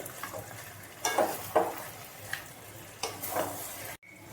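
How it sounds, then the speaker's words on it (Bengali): Sliced onions stirred into a hot pan for Bengali muri ghonto, soft sizzling frying with several scraping stirs of a spoon against the pan, moderately quiet and close. "পেঁয়াজগুলো দিয়ে একটু মিশিয়ে নিতে হবে।"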